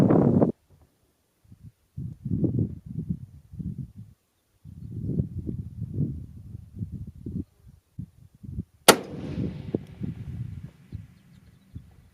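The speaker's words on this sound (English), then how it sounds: "let's see if we can just get on target with this super cheap long-range rifle setup using the HORNADY American Whitetail" A single loud, sharp long-range rifle shot fired outdoors with Hornady American Whitetail ammunition, from a budget long-range rifle setup. The crack hits abruptly, then a rumbling tail of echo fades off across open ground after some muffled handling noise.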